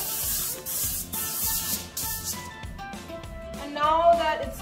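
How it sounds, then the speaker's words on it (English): Cooking spray hisses in short repeated bursts onto a large foil-lined baking pan, with a person talking throughout over the sprays. "I'm just going to use a bit of cooking spray and just spray the whole area,"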